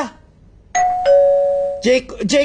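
A household doorbell chimes twice in clear two-tone rings at moderate distance, followed by a person talking loudly.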